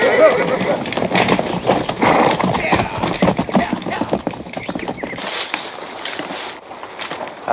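Horses neigh and their hooves clip-clop loudly and close in a frontier Western scene, mixed with busy movement and rattling, and the sound eases off toward the end.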